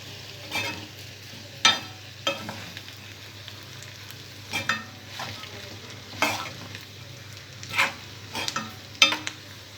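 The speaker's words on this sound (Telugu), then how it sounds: "కాకరకాయ ముక్కలు మొత్తం ఉల్లిపాయ ముక్కల్లో బాగా కలిసేలా కలుపుకోవాలి." Bitter gourd pieces and onion are stir-fried in a pan, a low sizzle under repeated scraping spatula strokes that come about once a second, close and distinct.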